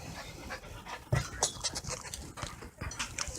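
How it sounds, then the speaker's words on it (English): Dogs, including a puppy, scamper around indoors with quick, rhythmic panting close by, mixed with irregular thumps, scuffles and small jingles of movement. "The dogs are running."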